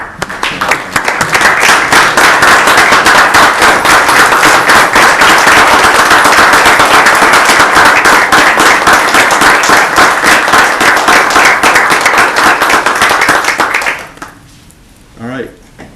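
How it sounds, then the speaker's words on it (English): A large crowd at a town council meeting applauds loudly and steadily for about fourteen seconds, a dense wash of clapping that then cuts off, leaving a brief quiet voice. "we give you a round of applause"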